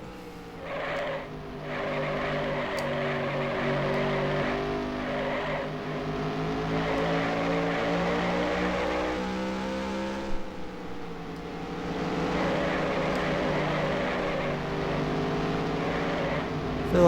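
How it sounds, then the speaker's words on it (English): Race car engines in the 1996 NASCAR Racing video game at North Wilkesboro drone steadily, the tone rising and falling with throttle changes over a continuous moderate roar. "I feel like the engine sounds are a little bit off."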